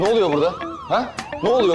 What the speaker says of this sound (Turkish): Bu alarm niye çalıyor?